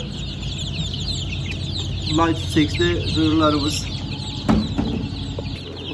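Chickens and Ross 308 broiler chicks cluck and chirp in short bursts amid steady coop background noise, with a person speaking briefly over them.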